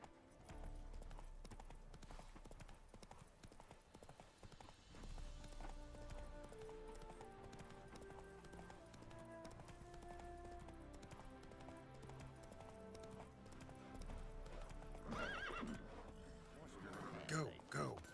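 Horse hooves gallop steadily in The Witcher 3: Wild Hunt video game, a continuous rhythmic clip-clop under game music, with a voice talking over it.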